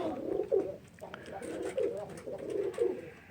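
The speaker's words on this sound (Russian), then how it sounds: "Голубятня гудит." Pigeons cooing inside a crowded dovecote in February, several close soft throaty coos repeating in a rolling rhythm, each lasting under a second.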